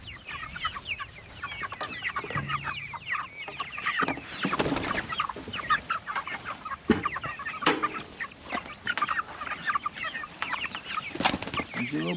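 A flock of chickens clucks and chatters around a chicken tractor, with many overlapping close calls and scattered sharper squawks forming a busy, continuous farmyard bed over twelve seconds.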